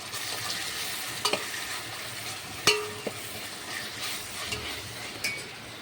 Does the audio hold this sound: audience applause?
no